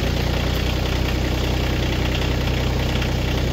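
A tractor engine idling steadily at about 1400 RPM while firewood is split, a loud, even, close diesel drone with a regular low knock and no talk.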